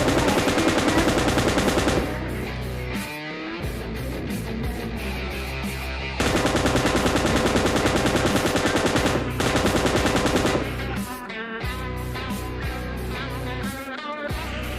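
Gunfire in PUBG Lite, with rapid automatic bursts of shots rattling close and loud over game background sounds, pausing and resuming in several long volleys.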